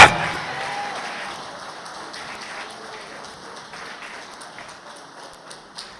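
A Pentecostal church congregation applauding, a burst of clapping that starts loud and fades into a softer, lingering patter of hands across the room, without any speech over it.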